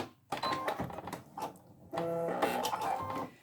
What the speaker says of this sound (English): And at the end we'll do a back stitch, and that just secures your stitching.